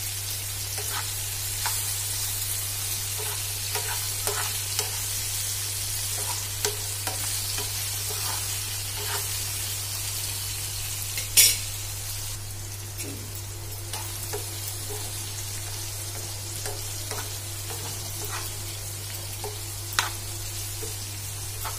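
Coarse garlic paste is stirred into a drumstick chutney frying in a pan, a steady sizzle with light scraping strokes and a sharper clatter midway.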